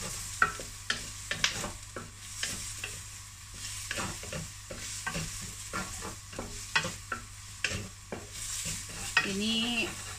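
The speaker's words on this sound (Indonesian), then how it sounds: "ini kan udah ada kegoreng-goreng dikit gitu tuh ya" Food frying with a steady sizzle in an uncoated stainless steel pan, scraped and stirred by a utensil in repeated short strokes, close and clear with no talking, while cooking gluten-free mushroom chicken noodles with meatballs.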